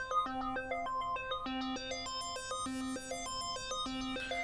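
An Arturia ARP 2600-V synth preset plays a steady melodic pattern of bright, ringing tones whose timbre periodically brightens and dulls under LFO modulation, held at a moderate level with no voices.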